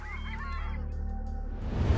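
Wild birds at the Ulan Suhai Lake reserve give a chorus of goose-like honks and calls, several voices overlapping in a steady, fairly close flock, with a low rumble swelling toward the end.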